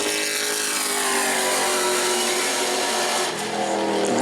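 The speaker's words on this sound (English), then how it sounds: "Tim Sozio, third car to take time here." A Sportsman race car roars steadily at full throttle during a qualifying lap at New Smyrna speedway, loud and continuous, with the engine pitch sweeping as it circles the track.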